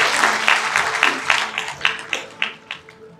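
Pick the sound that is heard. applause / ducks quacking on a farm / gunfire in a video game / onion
applause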